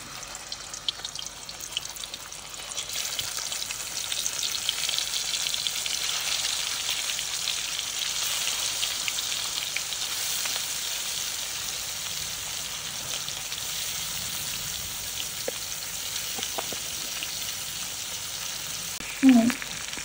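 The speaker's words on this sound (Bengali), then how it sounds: "এই মাছগুলো এবার তেলের উপরে আস্তে করে আলতোভাবে ছেড়ে দেব" Fish frying in a mix of pure mustard oil and a little white oil, a continuous close sizzle that swells as the fish goes in, with a few clinks near the end.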